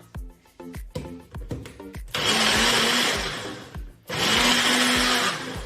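A kitchen blender whirs loudly while blending a batch of homemade salsa or taco sauce, running in two sustained bursts of a few seconds each, preceded by a series of sharp knocks and taps as ingredients settle.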